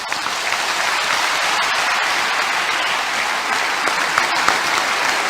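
Sustained standing ovation at an awards ceremony honouring Angela Merkel, dense steady applause from a large audience filling the whole stretch at an even, loud level without a break.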